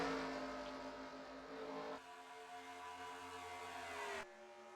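Stock car engines roar together in a NASCAR Racing 2003 race at Las Vegas, a dense pack of sustained engine drone with shifting pitch, loud and continuous with no talking.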